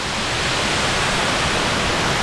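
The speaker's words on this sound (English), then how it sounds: "Look at this waterfall." Waterfall in the gorge at Stony Brook State Park on a chilly late-September day, a loud, continuous broadband roar of falling water, close and unbroken, with no talk.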